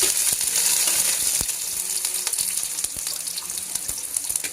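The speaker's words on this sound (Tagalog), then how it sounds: "Mainit na yung mantika, maggisa na tayo." Onion and garlic sautéing in hot oil for pork adobo, a loud, close, bright sizzle with frequent sharp crackles and pops that gradually eases slightly.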